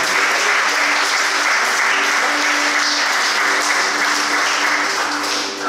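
A church congregation applauds in a sustained, dense burst of clapping that stays steady and loud throughout before easing slightly at the end.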